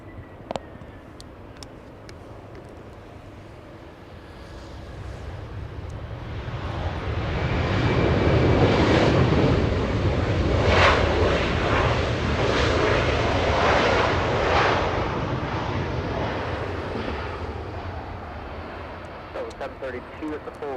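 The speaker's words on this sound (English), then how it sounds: "We have an Airbus coming in, runway 24 right. This one Delta 732 flying in from Dallas Fort Worth." A Delta Airbus from Dallas Fort Worth lands on runway 24 right at Los Angeles International Airport. Its jet roar swells from a distance, peaks loudly for several seconds and then slowly fades, with voices talking over it.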